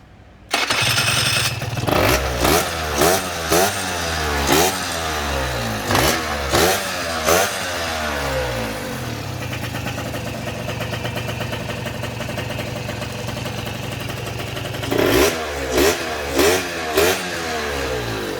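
An old-style pop motorcycle, a ZX35 fitted with an aftermarket NGK-type ignition coil, starts and is blipped repeatedly, giving sharp close revs that settle into idle before a final cluster of revs, with no talk.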